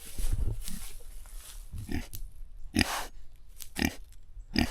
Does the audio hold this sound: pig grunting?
yes